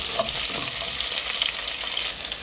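Cooking food is stirred in a pot with onion and tomatoes, a close, continuous sizzling hiss with soft scraping strokes running throughout.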